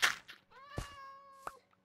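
A Minecraft cat meows in a game world, two short nearby meows with a drawn-out tonal middle, faint and alone without talk.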